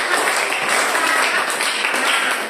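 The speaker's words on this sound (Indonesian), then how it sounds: "Tuh, ya tepuk tangan dulu untuk Vicky sudah memberikan tanggapan." Classroom of students applauding a classmate, a dense, continuous patter of many hands clapping at steady loudness.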